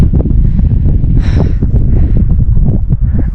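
Steady cold mountain wind on the Tour du Mont Blanc roars and buffets the microphone throughout, with low rumbling gusts and a brief hiss of rustling in the middle.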